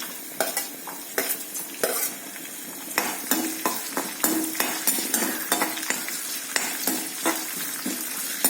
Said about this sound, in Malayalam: ഇതെല്ലാം നമ്മൾ നന്നായിട്ട് വഴറ്റിയെടുക്കണം.